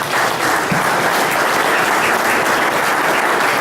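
Loud, dense applause from an audience paying homage to a late teacher, a steady unbroken wash of clapping with no talk, at a talk on rural normal schools.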